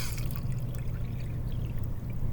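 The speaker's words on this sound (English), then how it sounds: "I'm going to pour some water in there and see what happens." Water pours into a badly burnt can in a steady, continuous rush with no one speaking.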